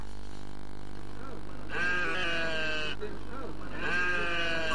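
Sheep bleat repeatedly at a crowded livestock market in Mopti, Mali, where animals are sold for sacrifice ahead of Tabaski; two long, loud wavering cries rise over steady crowd murmur and background hum.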